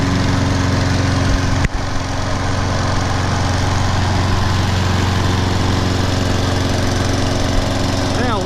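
A John Deere JS35 walk-behind lawn mower, fresh from a tune-up with new spark plug and air filter, runs at a steady loud drone close by, with one sharp clack early on.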